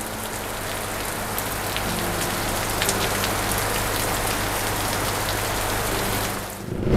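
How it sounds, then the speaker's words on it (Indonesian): Steady heavy rain falls at Taman Safari Bogor, a dense continuous hiss of drops drumming on nearby surfaces, loud and unbroken for the full stretch with no voices. "semoga hujannya cepat berhenti"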